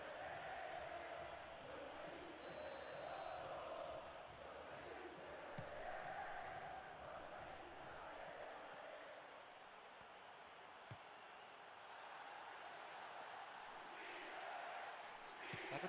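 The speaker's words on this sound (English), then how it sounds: "judging by the crowd's reaction, they thought he'd done enough too" Simulated stadium crowd in a PES 2013 football video game, a steady broad roar of many voices swelling slightly in places, filling the whole stretch at a constant moderate level with no clear talk.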